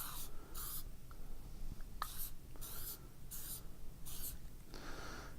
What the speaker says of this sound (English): Spray it, just lightly spray it.